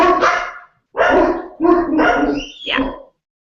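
Several loud dog barks come in quick bursts, close by, with a higher yelping whine at the end.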